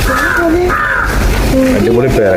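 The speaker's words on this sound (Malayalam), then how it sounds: "ഇവിടെ കാക്കിന് സൗണ്ട് ഉണ്ട്" Crows caw outdoors in a garden during guava picking, repeated harsh calls rising over steady nearby talk throughout.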